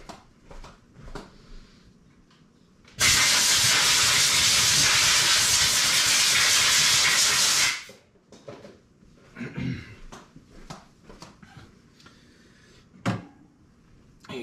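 A strong, steady blast of compressed air blows dirt off a cleaned housing, or cage, for about five seconds. Quieter clinks and handling noises come before and after it.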